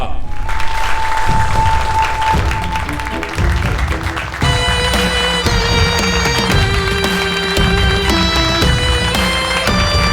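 A stage audience applauds in welcome as a young poet from Lucknow is introduced for a poetry contest, with steady, loud clapping running throughout alongside musical tones.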